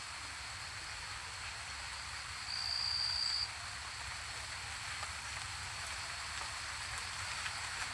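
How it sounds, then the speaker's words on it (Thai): Steady rain pours through the night outside a Thai charcoal-kiln yard, a dense continuous hiss with insects chirring faintly beneath and no voices. "เสียงฝน"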